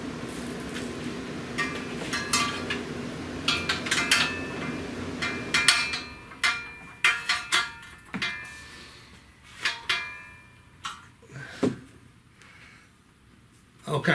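A ratchet wrench clicks in short bursts of rapid ticks with pauses between, close by, following a louder mechanical hum at the start, while tightening during an alternator replacement on a 2011 Kia Soul.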